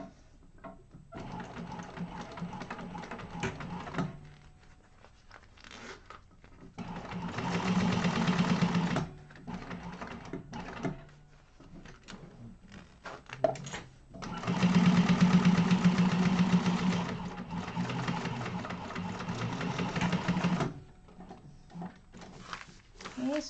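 A sewing machine stitches fabric for a Yoshi Sling bag in long whirring runs, several seconds each with pauses between, close and steady, while someone talks in the gaps.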